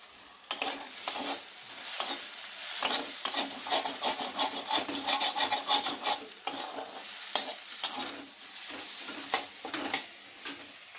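Rice is stir-fried in a pan with a spatula, scraping and tossing in quick irregular strokes over a soft sizzle, close by with no voices.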